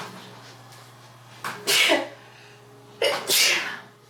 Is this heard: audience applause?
no